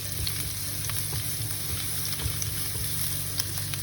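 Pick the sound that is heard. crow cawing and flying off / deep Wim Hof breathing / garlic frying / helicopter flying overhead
garlic frying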